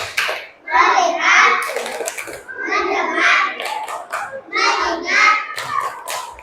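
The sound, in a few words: children doing a rhythmic focus clap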